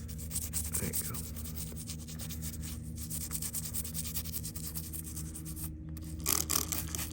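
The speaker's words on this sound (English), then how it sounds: "you can go ahead and rub it first right quick" A pink and white quartz arrowhead is rubbed and scrubbed by hand to clear carbon buildup, making a steady close, dry rubbing and scraping that continues for several seconds with a brief sharper scrape near the end.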